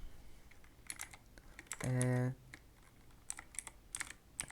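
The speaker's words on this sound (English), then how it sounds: "type this command here, and this command, type it here, and then click OK." Keys on a computer keyboard are tapped in short scattered bursts of quiet clicks, with a brief steady tone sounding in the middle of the typing.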